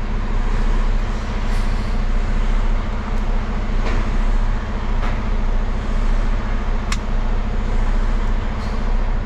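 A truck's power take-off is engaged and drives a pump, giving a loud, steady mechanical drone with a deep low rumble that holds unchanged throughout, with no voices.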